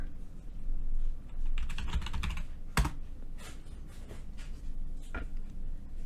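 Fingers tap out a password on a computer keyboard in a quick, uneven run of soft clicks, one sharper keystroke landing in the middle, close up and quiet with no talking.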